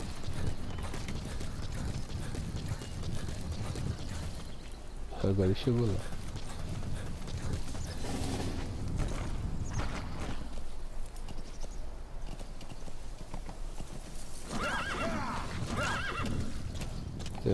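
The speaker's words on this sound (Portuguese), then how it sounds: "Já vi que esse cavalo é meio burro." A horse in the video game Metal Gear Solid V whinnies loudly and its hooves clip-clop, heard beneath someone speaking Portuguese and game sounds.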